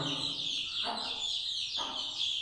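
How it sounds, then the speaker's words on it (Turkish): A group of young chicks, 15 to 20 days old, peep continuously with a high, steady chirping chorus, close by and fairly quiet, and a couple of louder calls stand out. "Bunlar arkadaşlar 15-20 günlük daha küçük civcivler."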